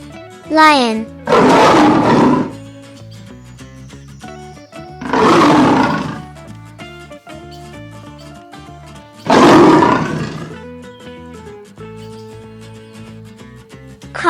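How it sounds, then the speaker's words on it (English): A lion roars three times in deep, loud, drawn-out bursts separated by pauses, with light background music and a voice speaking between roars. "Lion."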